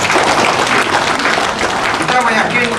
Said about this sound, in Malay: Jadi kita beri tepukan kepada penasihat kita.